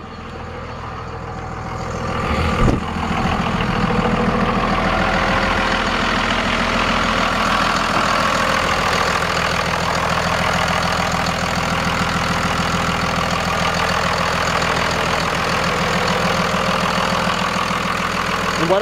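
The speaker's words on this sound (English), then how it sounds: "Let you hear the engine." A 2002 Dodge Ram 2500 pickup engine idles steadily with the hood open, a loud low rumbling drone and rhythmic mechanical ticking, preceded by a brief clunk near the start.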